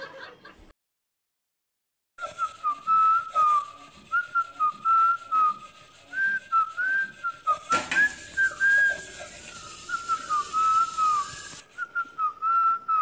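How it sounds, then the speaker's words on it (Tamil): A man whistles a tune, loud and close, in sustained wavering notes broken by brief pauses. A short silence comes first, and a burst of rustling noise runs partway through. "இதுல இவருடைய விசில் வேற."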